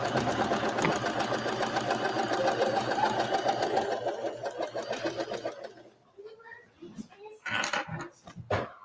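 A sewing machine stitches a flannel heater bean bag in a kids' sewing class, running steadily and close for about six seconds before stopping, followed by faint rustles and handling noises.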